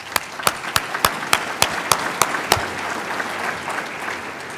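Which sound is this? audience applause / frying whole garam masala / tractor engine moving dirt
audience applause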